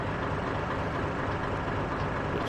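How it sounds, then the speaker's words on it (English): A DB Class 204 diesel locomotive in a train simulator game idles continuously, a steady low broadband rumble, even in level, with no other sounds standing out. "The old Rivet Games DBR 204 just idling away."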